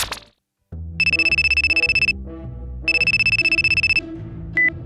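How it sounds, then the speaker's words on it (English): A telephone ringtone on an outgoing call sounds in two long trilled bursts of rapid electronic warbling, loud and close, with a short beep near the end and no voices. "Let me make a phone call."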